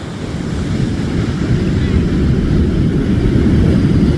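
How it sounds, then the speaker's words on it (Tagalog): Ocean surf rolls steadily onto the beach at La Union, a loud continuous rumble mixed with heavy wind buffeting the microphone. "Ang sarap sa tenga ng mga nung alon ng dagat"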